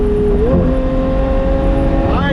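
A Lamborghini engine holds a steady loud drone, its pitch climbing in a rev near the start and again at the end, heard close with a voice talking over it.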